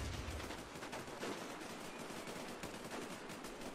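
Rapid gunfire rattles in a video game, a dense stream of sharp reports fired in quick succession at moderate distance, with no voices.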